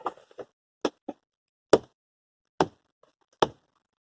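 A few sharp plastic knocks and taps, spaced out over several seconds, close by, as a lid is pressed down onto a green bottle filled with rainwater.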